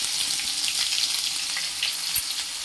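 Garlic, ginger and green chilli fry in hot oil with a steady, close crackling sizzle and scattered sharper pops, continuous without any talk.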